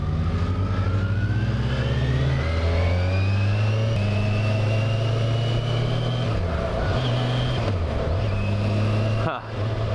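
A car engine revs and pulls through the gears while driving with a very light clutch, a steady loud mid-range drone that climbs and dips with gear changes, with a brief drop near the end.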